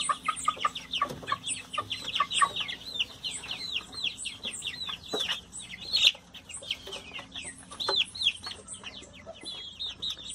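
Free-range chickens clucking and squawking in an open coop on a ranch, with a steady overlapping chorus of nearby clucks and a few louder calls, no talking.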